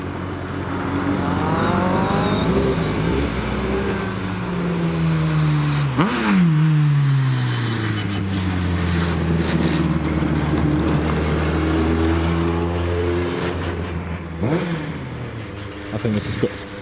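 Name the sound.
car driving down the hill after a hillclimb run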